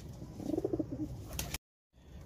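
A sick female pigeon under treatment after a viral illness gives a short run of soft, throaty coos close up, followed by a brief silence and faint background noise.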